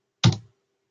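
A single short tap on a computer keyboard while entering a grid command in MATLAB, one quick close click alone in quiet.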